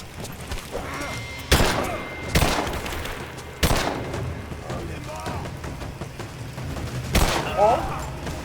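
Scattered gunshots ring out in Rise of the Tomb Raider, four or five loud, sharp cracks spaced a second or two apart over game ambience, with faint voices between them.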